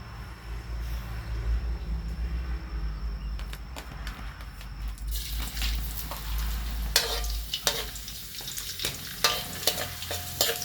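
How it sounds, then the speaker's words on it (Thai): Garlic and chili stir-fried in oil in a wok for Thai fried kale, a steady low sizzle that swells into louder crackling frying, with sharp scraping stirs near the end. "กระเทียมลงไปผัดเล็กน้อยนะครับให้มันหอม"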